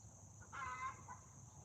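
A backyard chicken gives a short, faint burst of clucking midway through an otherwise quiet outdoor stretch.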